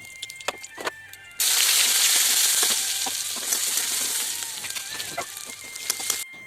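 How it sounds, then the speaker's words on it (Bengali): Bay leaves, whole dried red chillies, cumin seeds and whole garam masala hit hot oil with a sudden loud sizzle that holds steady, ringing with faint clinks of a pan and spoon nearby. "তেলটা গরম হয়ে এলে তেলের ওপর তেজপাতা, গোটা শুকনো লঙ্কা, গোটা জিরে আর গোটা গরম মশলা তেলের ওপর দিয়ে দিলাম।"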